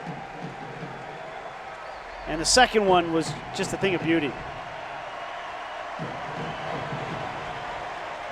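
Stadium crowd at a 2015 U.S. Open Cup soccer match between Sporting Kansas City and FC Dallas gives a departing player a standing ovation, a steady, distant roar of applause beneath a commentator's talk.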